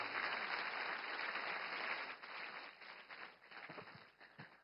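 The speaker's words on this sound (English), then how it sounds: "A gentle round of applause to our Honorable Governor of Tamil Nadu, Thiru Rajendra Vishwanath Arlekar" Audience applause at a regional Tele Law workshop in Chennai, following the Governor of Tamil Nadu's speech: a dense, steady round of clapping that gradually thins out toward the end, with a faint tone running underneath.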